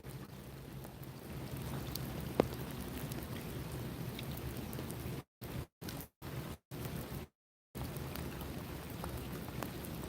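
Steady rain patters outdoors on a stream while fishing for brook trout, rainbows and smallmouth bass, a dense close hiss with a few sharper drops, broken by several brief dropouts near the end.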